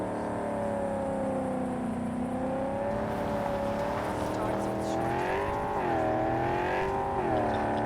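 Car engine in the video game Cyberpunk 2077, a continuous revving drone that rises and falls in pitch as the car speeds along, with tire and road noise and a voice talking over it.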